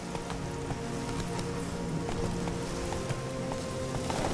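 Roach the horse gallops in The Witcher 3: Wild Hunt, a steady rapid clip-clop of hooves close by, continuous and even throughout with faint ambient background.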